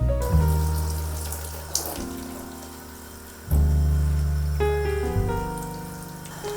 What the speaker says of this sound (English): we're gonna start out by watering this orchid